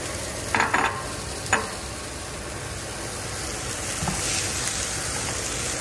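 Chopped carrots frying in a pan as they are stirred, a steady sizzle with a few sharp scraping clatters near the start, close and alone without talk.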